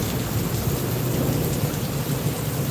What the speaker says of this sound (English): pretty good lightning strikes going on